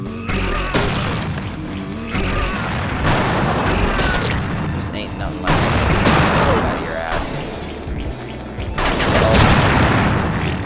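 Rocket launcher fire and explosions in the shooter game Slayers X: Terminal Aftermath, heavy booming blasts recurring about every two to three seconds, dense and loud with crashing debris throughout.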